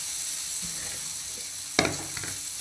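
Idli pieces tossed with fried onions and seasoning sizzle steadily in a pan, with a few soft stirring scrapes and one sharper clatter of the spoon near the middle; nobody speaks.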